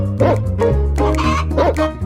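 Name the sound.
hen clucking while running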